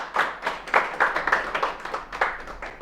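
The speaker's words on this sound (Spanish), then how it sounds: "Denle un fuerte aplauso al Señor." A church congregation claps for the Lord in a brisk, rhythmic series of hand claps, moderately loud and close, with no talk over it.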